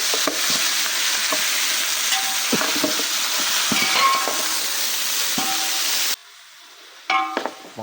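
Beef trotters and shank pieces frying and being stirred in a pot, with a steady loud sizzle and repeated metallic scrapes and clinks of the spoon, then a brief quieter pause before more stirring clatter.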